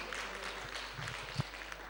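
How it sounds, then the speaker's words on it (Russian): A conference audience gives a faint, steady patter of applause for a speaker, distant and thin, with a low hum in the background. "давайте поприветствуем еще раз аплодисментами докладчика"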